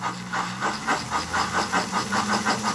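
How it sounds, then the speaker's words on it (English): A Frankentrain K5 model steam locomotive chuffs in an even, rapid rhythm timed to its piston, roughly four puffs a second over a low mechanical hum, close and moderately loud. "Chuff sound is synchronized with the piston."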